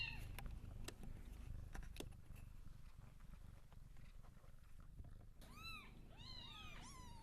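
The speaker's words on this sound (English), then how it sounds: "That ball of cuteness is actually a rescue kitten that's looking for a new home" A rescue kitten on a kitten cam gives a few high, wavering mewing cries near the end, close and fairly faint, after a stretch of quiet rustling and soft background noise.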